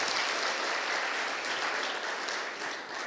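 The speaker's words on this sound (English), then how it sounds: "So can we give them a round of applause?" Summit attendees at the Southern Africa Development Community–India LPG Summit give a steady round of applause, a dense, even wash of clapping filling the hall for about three seconds with no talk over it.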